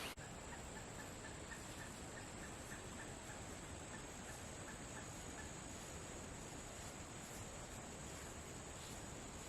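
A wild turkey gobbler and a hen call faintly from around 25 yards off in Florida woods at dawn, repeated clucks and gobbles over a steady bed of wind or surf and insect hiss.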